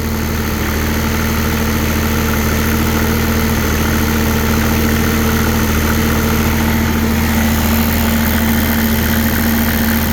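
A gelled-fuel diesel engine held at full throttle but failing to rev, droning steadily and loudly close by at a constant pitch with a heavy vibrating hum throughout.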